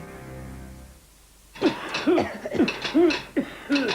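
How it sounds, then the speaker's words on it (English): Repeated harsh, hollow coughs from a person suffering a bad cough come in a close rhythmic series of about five bursts, loud and near, with no talk. "Bad coughs can be very worrying"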